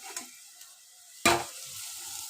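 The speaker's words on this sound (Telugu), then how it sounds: "ఉల్లిగడ్డ, పచ్చిమిర్చి వేగిపోయింది ఎర్రగా" Onion, green chilli and ginger frying in oil for a prawn and tomato curry, a sudden loud burst of sizzle when added to the pan, fading to a steady low crackle.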